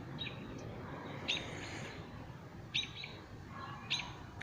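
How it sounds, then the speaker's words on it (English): Several birds chirp outdoors, with a few short high tweets rising at intervals over a steady background hush. "do you hear these birds?"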